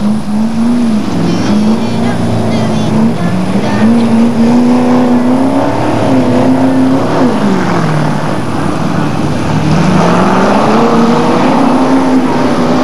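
Hotstox race cars lapping at Scunthorpe, with loud, continuous engine roar rising and falling as they race, heard under a commentator talking throughout.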